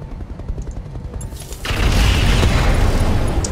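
Missile explosions in the mech combat game RogueTech burst in at about 1.6 seconds as a loud, dense rumble of overlapping blasts that holds heavy and sustained to the end, after a quieter stretch of low background noise.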